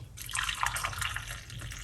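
Homemade cucumber, lemon, lime and ginger drink being poured, a steady splashing trickle of liquid with drips, close and moderately loud, alone without talk.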